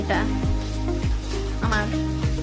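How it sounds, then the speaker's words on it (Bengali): Onions frying in hot oil in a pan give a steady sizzle that runs the whole way through, partly masked by louder background music. "এবার তেলে পেঁয়াজ দিয়ে দিচ্ছে, পেঁয়াজগুলো ভাজতে শুরু করে দিয়েছে"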